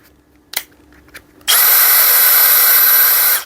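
A Makita DHP490 cordless impact drill runs its motor in a loud, steady high-pitched whine for about two seconds after a couple of brief clicks, then cuts off.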